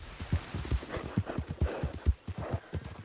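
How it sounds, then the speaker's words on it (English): Horse hooves clip-clop rhythmically in the video game Red Dead Redemption 2, a quick steady patter of close, distinct hoofbeats, loud and regular, without talk over them. "There's a ton of horses over here."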